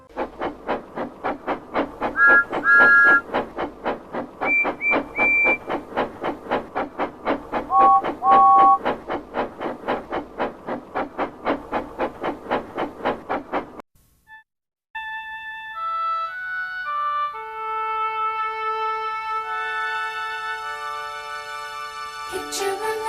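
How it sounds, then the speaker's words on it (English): Toy steam engines from a Thomas-style story: a rhythmic chuffing runs for several seconds, then a series of clear whistle tones rises and layers together, with a few short whistle blasts heard over the chugging too. "The engines whistled in delight"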